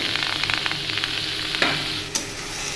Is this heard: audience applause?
no